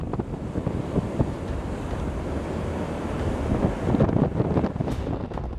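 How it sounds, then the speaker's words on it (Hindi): High sea waves surge along the coast ahead of Cyclone Yaas while strong wind buffets the microphone, a dense, continuous roar with no voices. "समंदर में ऊंची ऊंची लहरें उठने लगी हैं।"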